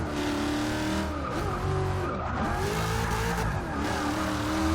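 A Fox Body with a 5 litre engine drifting in Forza 6, its V8 roaring steadily with revving pitch swings and tire squeal throughout, loud and close with no talk over it.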